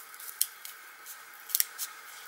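Sharp scissors snip through doubled paper strips for a handmade stamped card, several crisp close cuts in an uneven rhythm, two of them quick back-to-back, in a quiet room.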